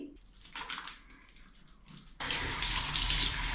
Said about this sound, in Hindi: So make sure you wash your face at night